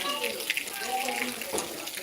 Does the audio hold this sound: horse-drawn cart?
no